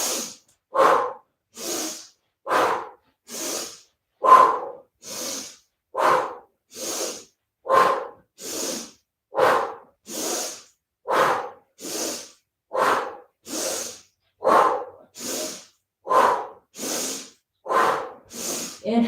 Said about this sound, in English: the pumping breath is big diaphragmatic breathing